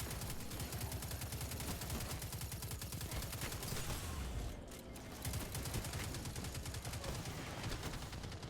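Dense, continuous automatic gunfire and rapid shots from a shooter video game fill the whole stretch, loud and relentless, with a brief dip midway before the barrage resumes.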